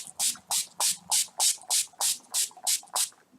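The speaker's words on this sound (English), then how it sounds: "I'm now going to use my Avon makeup setting spray" Avon makeup setting spray mists out in about ten quick, evenly spaced hissing bursts, close and fairly soft, with short silent gaps between them.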